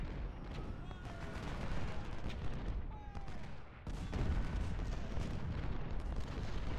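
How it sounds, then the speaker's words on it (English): Musket volleys in a Civil War battle in Ultimate General: Civil War, heard as dense, continuous crackling and booming gunfire with rolling rumble, steady and loud throughout with a brief dip midway. "Getting a couple of good volleys in on him, too, in the open."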